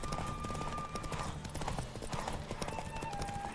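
Rapid rhythmic hoofbeats of a galloping horse in the video game Witcher 3, steady and close, with a brief whinny and music-like tones in the background.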